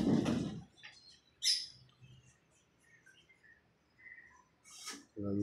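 Saji breed pigeons make scattered, faint chirps and calls, with a louder rustling burst at the start and another near the end, in an otherwise quiet setting.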